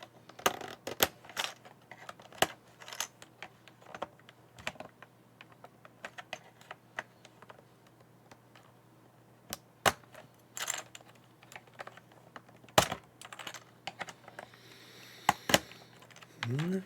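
Keycaps are pried off a computer keyboard, giving scattered plastic clicks and snaps at irregular intervals. Some are sharp and close, others are soft, and all sit over a quiet background hum.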